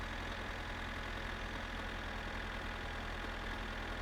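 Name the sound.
cars on the highway in video game My Summer Car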